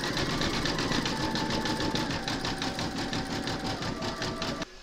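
Embroidery machine stitching a yellow satin-stitch feather area on a large appliqué parrot design, a rapid, even mechanical patter held close and steady for several seconds before it stops abruptly.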